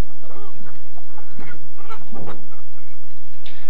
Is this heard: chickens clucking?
yes